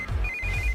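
A phone rings with a steady electronic tone, repeating briefly over a low background rumble.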